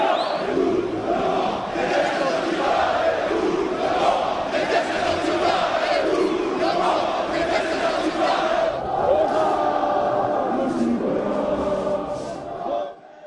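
Loud crowd chanting at a packed political rally in France, a dense wall of voices in rhythmic unison that continues steadily before easing off at the very end.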